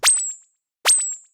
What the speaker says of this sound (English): got just a very simple singular saw wave with an envelope and an LFO.